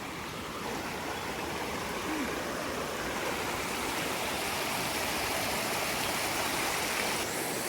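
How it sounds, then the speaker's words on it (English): A clear creek flows beside a trailhead in western Montana, a steady, close, full rushing of water running without a break for the whole stretch, with no voices. "There's a little creek next to the trailhead."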